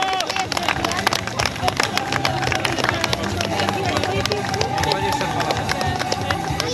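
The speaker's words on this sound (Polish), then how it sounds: "Wielkie brawa!" A crowd at a town 5 km running race prize ceremony gives brisk, dense applause for the podium winners, the clapping continuous and fairly close, mixed with crowd murmur.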